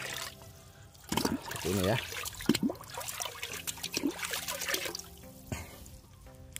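Liquid is poured and trickles while a chemical fertilizer solution is mixed, gurgling and splashing unevenly at close range as a person talks over it.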